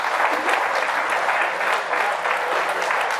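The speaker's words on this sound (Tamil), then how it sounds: "ஜோரா கைத்தட்டிருங்க" Loud, sustained applause from an audience at a talk on traditional veterinary medicine, steady dense clapping throughout with no voices on top.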